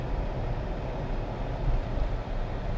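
Cabin noise from a 2024 Toyota Tacoma TRD Sport rolling over train tracks: a steady low road rumble with a few soft thumps in the middle and no talking.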